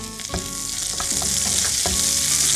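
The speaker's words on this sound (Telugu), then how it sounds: "లైట్గా వేగిన తర్వాత సన్నగా తరుక్కున్న ఉల్లికాడలు" Mint and chopped spring onions frying in a pan, loud continuous sizzling with several sharp clatters of a spatula tossing them; no talking.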